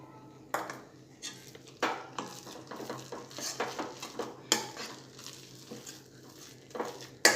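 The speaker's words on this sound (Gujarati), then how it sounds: "આ રીતે ગાંઠા ના રહે એ રીતે આપણે આ બેસનને મિક્સ કરી લઈશું" A spoon stirs gram flour (besan) into a raw potato mixture in a metal bowl, giving repeated clinks and scrapes in an irregular rhythm, close and fairly clear with no talking.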